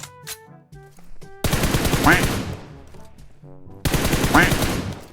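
Gunfire in the mobile battle-royale game PUBG Mobile: two dense, loud bursts of rapid automatic fire separated by quieter tonal game sounds.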